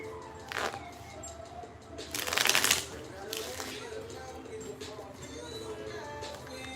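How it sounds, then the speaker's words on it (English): A deck of tarot cards is shuffled close by, several crisp riffling bursts of card edges flicking together, with quieter rustling between them. "Shuffling the cards."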